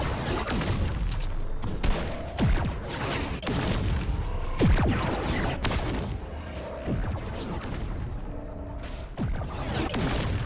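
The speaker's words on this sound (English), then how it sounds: "So this ultimately is a protracted bombardment." Sustained gunfire bombardment in Fortnite: rapid, overlapping shots and blasts crackling continuously, dense and fairly loud, with sharper impacts punctuating the barrage.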